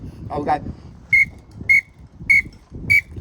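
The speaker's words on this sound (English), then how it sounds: "usually you restart on the 4th whistle" Four short, sharp whistle blasts at an even pace, each loud and clear, with some voices and background sound in between.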